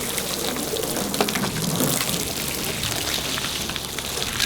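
Water hose spraying onto a truck bed tonneau cover on a Silverado or GMC Sierra, a steady close hiss and patter of water drumming on the cover surface, continuous and fairly loud with no talk.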